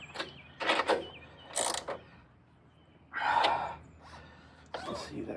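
Bursts of ratcheting as bolts are tightened on a 2016 Kia Soul front strut, several short close mechanical clicking runs separated by brief pauses.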